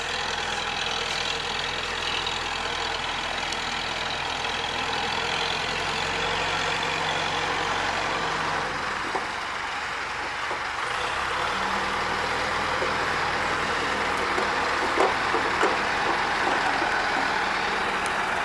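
A truck engine idles with a steady low rumble across the whole stretch, fairly close, its tone shifting slightly midway while faint outdoor clatter sits on top.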